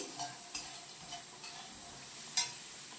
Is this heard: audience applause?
no